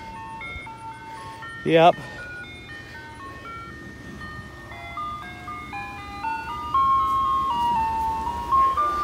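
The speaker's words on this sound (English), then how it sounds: "There goes the ice cream truck." Ice cream truck in Mount Wolf, Pennsylvania, rolling slowly past while its tinkly melody plays steadily at a distance, with a brief spoken reply and a short noisy burst early on.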